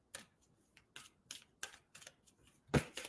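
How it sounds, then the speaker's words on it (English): Tarot cards riffled and shuffled by hand in a series of soft, quick papery bursts, a few seconds apart, ending in one louder snap; close and quiet, with no talking. "so let me shuffle again."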